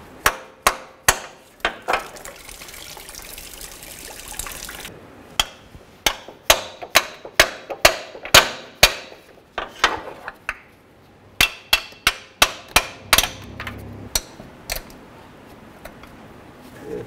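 A Jeep Compass water pump, 2007–2017 model, is tapped repeatedly with a hammer to break it free, producing sharp metallic knocks in loose rhythmic bursts, close and loud, with brief pauses between runs.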